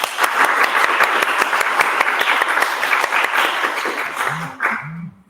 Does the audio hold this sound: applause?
yes